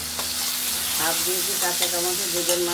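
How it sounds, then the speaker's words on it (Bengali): Potatoes frying in a pan with raw tomato and a dried chili give a steady, loud sizzle, with a voice talking over it partway through. "এখন আমরা এই আলুটা ভাজি তার সঙ্গে দিয়ে দিলাম একটা কাঁচা টমেটো এবং শুকনো লঙ্কা একটা"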